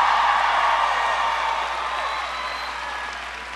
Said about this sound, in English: Can you give her a big round of applause for that great